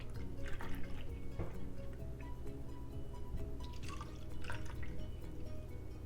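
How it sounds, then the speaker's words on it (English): Jolly Rancher jello vodka liquid is poured into popsicle molds, giving faint, soft trickling and dripping sounds with small splashes throughout. "you want to take your liquid and you want to add it to your popsicle molds"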